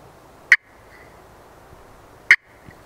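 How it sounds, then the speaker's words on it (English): A striker on a turkey pot call gives two single clucks, close and crisp, about two seconds apart against near silence. "That's how you make a cluck."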